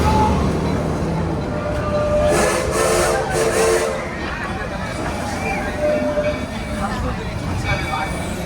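An amusement park train rolls past at Knott's Berry Farm, with steady rumbling and hissing along with a brief whistle-like burst, loud and close, with crowd noise mixed in.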